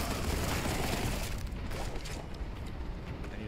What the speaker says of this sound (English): I threw the vortex grenade